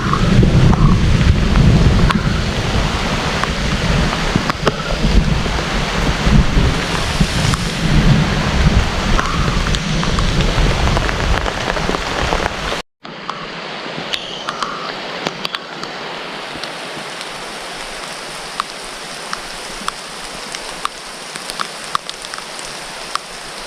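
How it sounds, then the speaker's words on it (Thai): Heavy rain and thunder on a mountain ridge, a loud dense downpour with deep rumbling for the first half, then a sharp cut to a thinner, steadier rain hiss. "ดูนะครับฝนตกหนักมาก"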